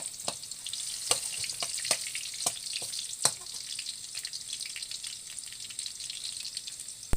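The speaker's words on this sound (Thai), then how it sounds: "เจียวกระเทียมให้มันหอมลักน้อยนะครับ" Garlic fries in a pan for a Thai home-style sweet and sour chicken stir-fry, a quiet, steady sizzle broken by scattered sharp pops and crackles, with no talking.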